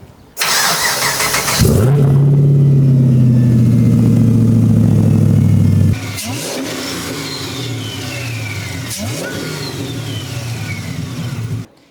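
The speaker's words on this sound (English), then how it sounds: "It's actually a real nice idle, You know, That's all done through the Rebel" Car with a Haltech Rebel ECU cranks and starts, revs loudly for a few seconds, then drops into a steady, smooth idle that holds close by without talking.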